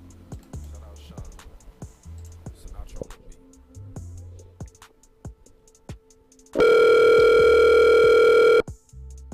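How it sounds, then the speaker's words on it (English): On a call-in sports show, a telephone tone sounds on an outgoing call, a loud, steady electronic buzz lasting about two seconds after a stretch of quieter background sounds. "Can y'all hear that phone ringing?"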